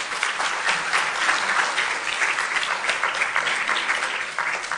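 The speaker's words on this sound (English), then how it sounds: "So please give him a round of applause with Myra." A room full of people applauding an emeritus professor at a women in environmental sciences event, steady, dense clapping that holds evenly for several seconds without speech.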